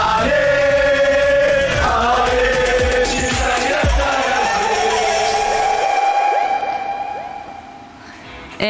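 Espérance supporters fill a stadium ahead of a Club World Cup match against Flamengo, their dense, continuous roar of crowd noise and chanting holding steady before fading somewhat near the end.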